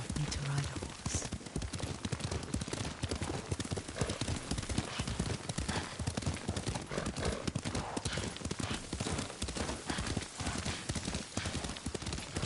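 Hoofbeats of a ridden horse in a video game, a steady, continuous clip-clop at a canter, with brief voices and the occasional whinny heard over it.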